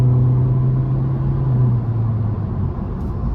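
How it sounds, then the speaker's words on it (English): A 2023 Honda Civic Sport Hatchback with its naturally aspirated 2.0 engine and CVT pulls under light throttle, giving a steady, droning engine hum heard from inside the cabin with no talking. "But let's give it a little throttle here."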